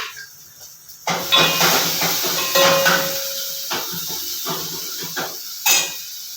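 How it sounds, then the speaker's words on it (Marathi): Hot phodni is poured onto cooked dal with tomato. A loud sizzle bursts in suddenly, then settles into a crackling hiss with a few sharper flare-ups. No one speaks. "आता देते फोडणी"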